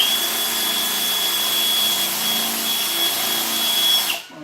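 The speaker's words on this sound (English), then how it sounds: "Switch back to our drill." A power drill with a very blunt bit bores into timber wall framing, a loud, steady high whine held for about four seconds before cutting off abruptly.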